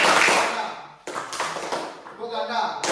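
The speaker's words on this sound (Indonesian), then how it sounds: "tepuk tunggal itu 1 kali, tepuk ganda 2 kali" A classroom clapping game mixes single and double hand claps. A few sharp claps ring out, including a double, while children chant and talk around them.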